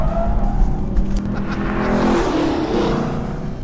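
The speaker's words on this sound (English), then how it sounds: "That wasn't the best power slide." A 2018 Camaro SS 1LE or Corvette Grand Sport on a race track, power sliding through a corner: loud, steady engine roar under a sustained squealing tire scrub that rises and fades across the slide.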